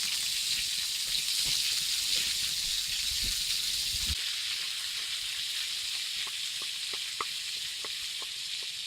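Meatballs flambéing in oil over a campfire crackle and sizzle with a steady hiss. The flame's low roar stops partway through, then quieter sizzling continues with a few sharp pops.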